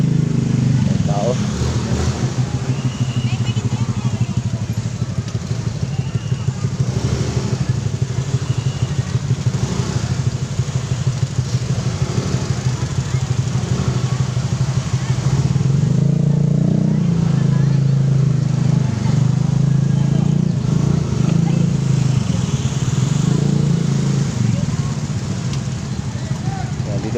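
Motorcycles and cars idle and rumble at a group ride gathering in Manaoag, Pangasinan, a continuous low engine drone at moderate distance with people talking over it throughout.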